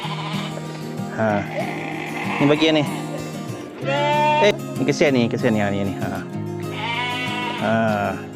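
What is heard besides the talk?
goats bleating at a market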